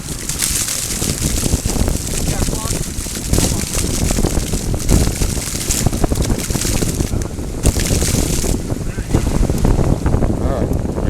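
Gold dredge with a hydroforce pump working outdoors by a stream, a constant rushing, gushing water-and-engine roar with gusty wind buffeting, steady and close throughout.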